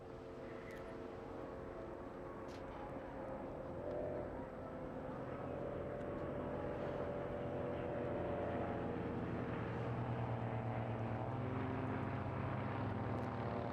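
Two light aircraft at the Eastbourne airshow, fitted with fuselage neon lights and pyrotechnics, drone steadily in a sustained engine hum that swells slightly toward the end, heard at moderate distance over a faint ambient background.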